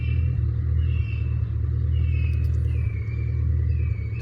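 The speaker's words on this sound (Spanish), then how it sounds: "Y el carro pues ahí está fallando, amigos, está fallando." A Ford car engine running with a misfire, a steady low idle rumble with faint uneven stumbles and a recurring high whine above it, close and continuous with no talk.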